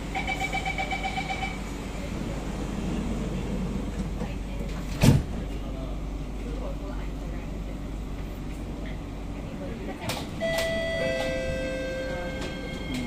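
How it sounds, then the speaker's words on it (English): Door-closing chimes sound at the start, then a loud thump of sliding doors shutting on an SMRT Kawasaki-Sifang C151B metro train over steady carriage rumble, followed by a chime later. "doors are closing."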